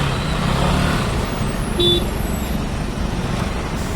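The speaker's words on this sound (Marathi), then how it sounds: "पूर्ण ट्रॅफिक जाम झालंय" Steady roar of congested road traffic in a jam near Pali, with idling and moving engines, and one short car horn toot partway through.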